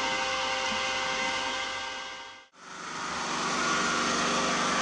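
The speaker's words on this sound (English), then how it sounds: "The compressor is running on the generator instead of my inverter now" An air compressor powered by a generator runs with a steady, loud mechanical drone and whine. It stops abruptly midway, then starts up again and keeps running.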